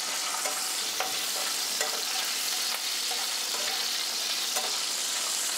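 Taro (mukhi kochu) fries in hot oil in a pan, giving an even, hissing sizzle with scattered light crackles and stirring clicks, steady and close with no speech.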